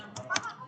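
A few quick keystrokes on a computer keyboard, ending with the Enter key, tap out a ping command while a MikroTik RB952 router is being configured. The clicks are brief, soft and close.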